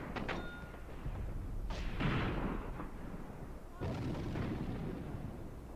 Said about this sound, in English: Was that an airburst?